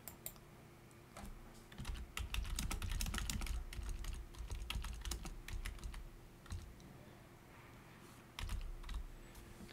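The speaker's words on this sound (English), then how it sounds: "then of course you'll need to type in your post." Close, quiet typing on a computer keyboard as a post is written, with irregular key clicks in bursts and a brief lull before more taps.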